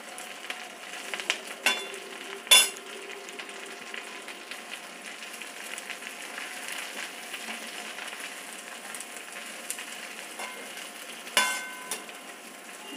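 Curry leaves frying in oil over a slow flame for karuveppilai thokku, a steady gentle crackling sizzle with a few sharper pops and clinks, near and free of talk.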